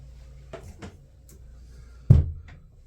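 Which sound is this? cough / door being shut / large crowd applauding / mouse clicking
door being shut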